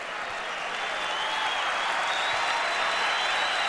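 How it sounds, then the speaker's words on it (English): Basketball arena crowd in a 1990–91 Denver Nuggets versus Golden State Warriors game applauding a player fouling out, a steady, full roar of clapping and crowd noise that swells slightly. "Gets a nice round of applause, but he is gone."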